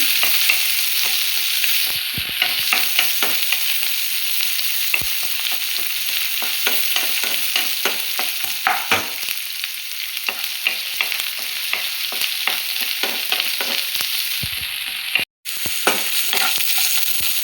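Onions fry in hot oil for rasam, a loud dense crackling sizzle that carries on throughout, with occasional stirring scrapes and one brief dropout near the end.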